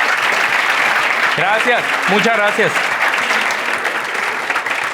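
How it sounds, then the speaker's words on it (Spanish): Audience applause fills a university lecture-series event, steady broadband clapping throughout while a voice speaks over it near the start. "Un aplauso, por favor"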